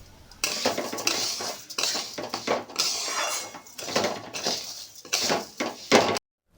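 Rice and sonamoong dal being mixed in a pot for Bengali khichuri, with repeated scraping and clinking of a utensil against the metal pot, fairly close, in irregular bursts, no talking.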